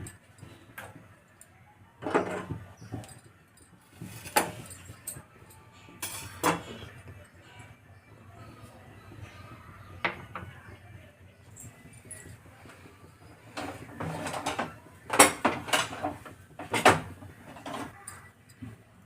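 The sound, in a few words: pan placed on the stove for cooking fish curry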